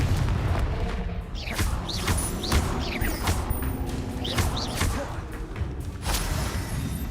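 Spell explosions from the Hogwarts Legacy video game, a steady run of booming blasts, whooshes and crashing impacts layered over game music at a loud, constant level.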